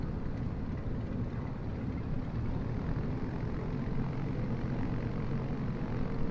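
An airplane taxiing toward the runway in Microsoft Flight Simulator, a steady low engine drone with a broadband rumble that holds even and unbroken throughout, with no voices.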